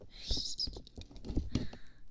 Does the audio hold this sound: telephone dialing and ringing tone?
no